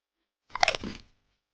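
A hen pecking and eating grain makes a single short, close crunching burst that fades quickly into silence.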